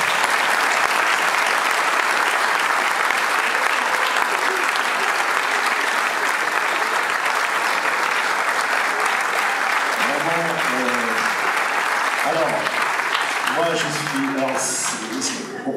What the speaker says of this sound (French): Je vous demande un tonnerre d'applaudissements pour Gershon Yabusele